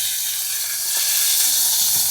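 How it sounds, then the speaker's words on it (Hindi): Tadka for dal sizzles loudly in hot oil in a home kitchen, a dense, steady hiss of frying that swells slightly partway through, with faint clinks underneath and no talking. "ज़बरदस्त किस्म का तड़का लग गया।"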